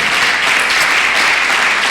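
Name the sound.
church congregation applause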